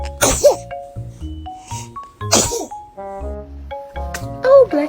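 A baby sneezes twice, sharp and close, with a bright chiming toy melody playing underneath and a small vocal sound near the end.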